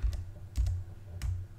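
A few soft, scattered keystrokes on a computer keyboard, three light clicks separated by pauses, quiet and close with a low background hum.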